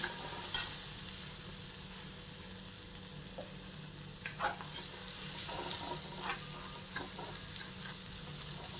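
Ground spice paste with cumin powder and asafoetida sautéing in a hot tempering, a soft continuous sizzle broken by several sharp scraping stirs of the spoon.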